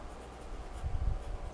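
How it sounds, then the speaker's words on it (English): Pencil scratching on paper as someone writes a note by hand, a soft, close rustle that grows briefly louder in the middle, with no talk. "I'm literally going to write that down"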